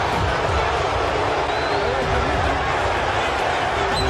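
A large boxing arena crowd roars steadily throughout, a dense continuous wall of cheering at close range, with a commentator talking over it.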